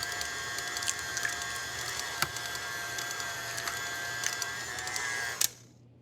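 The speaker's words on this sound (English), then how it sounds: "this big glob of dough goes into the mixer, but now I'm just gonna mix it for a moment just to cool it down" A stand mixer runs steadily on a big glob of warm choux pastry dough for crullers, cooling it before the eggs go in, with a constant motor hum and a few small clicks before it cuts off near the end.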